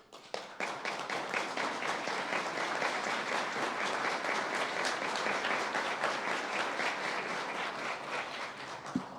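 Audience at a ceremony marking 25 years of the Constitution in Rionegro applauds, a long, even crowd clapping with crisp individual claps, heard from a slight distance throughout.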